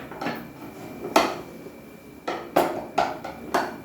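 A spoon works wheat flour dough in a hot pan, giving five distinct knocks and scrapes of metal against the pan spaced out over a few seconds, fairly loud and close with no voices.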